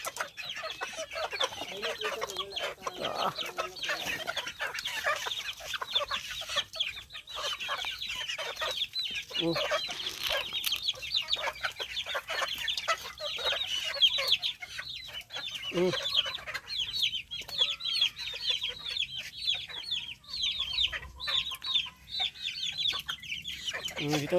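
Chickens clucking steadily at feeding time, a dense flock chorus with overlapping calls and the occasional crow, close by and continuous throughout.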